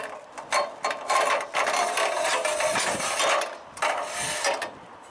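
Plastic and metal safety clips on a roof ladder snap and rattle open in a quick series of clicks and clatters, loud and close, with no talking.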